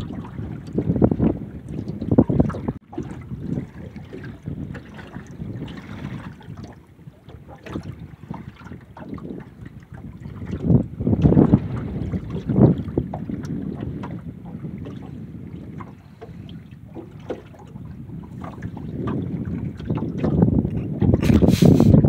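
A fishing motorboat engine drones on the water in the Gulf of Fonseca, mixed with gusty wind buffeting the microphone and occasional splashes, loud and close throughout.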